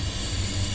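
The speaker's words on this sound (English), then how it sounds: "I have a brake parts cleaner from O'Reilly. Just spraying it down in here." Brake parts cleaner spraying from an aerosol can into the idle air control valve of a Honda Accord V6, a brief, close, steady hiss with no break.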